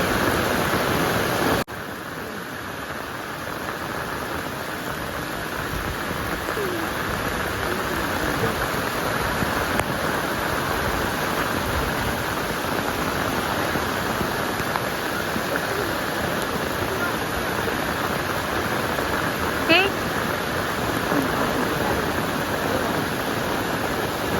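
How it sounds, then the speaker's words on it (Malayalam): Meenmutti waterfall at Kallar roars with a steady, even wash of rushing water that stays loud and unbroken throughout, with no talk over it. "ഇതേപോലത്തെ ഇങ്ങനെ വെള്ളച്ചാട്ടത്തിലൊക്കെ ഇങ്ങനെ അപകടമായ വിധത്തിൽ ഇങ്ങനെ വെള്ളം വരുന്നതൊക്കെ നമ്മൾ ശരിക്കും നേരിട്ട് കാണേണ്ടത് തന്നെയാണ്"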